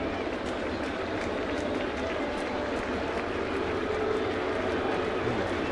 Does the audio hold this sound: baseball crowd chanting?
yes